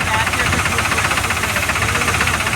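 A tractor's steady, loud diesel engine chugs and rumbles with a regular knocking pulse throughout, close by, with no pauses.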